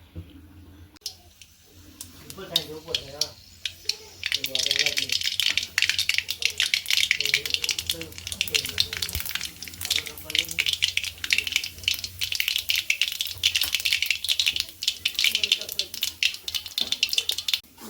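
Cumin and mustard seeds sizzle and crackle in hot oil while tempering the mashed potato filling for vada pav, a steady dense spitting hiss that builds after a few seconds and runs on beneath a talking voice.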